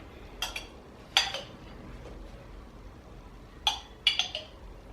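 Strawberry jam being scooped from a jar with a large metal spoon while making oat porridge, giving a few separate clinks and scrapes of spoon on glass in quick clusters, close and fairly quiet.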